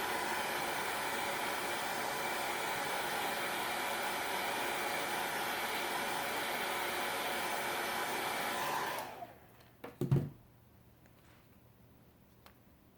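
Hair dryer blowing steadily and close to dry a craft project, a loud even whoosh for about nine seconds before switching off, followed by a few faint clicks and a brief thump.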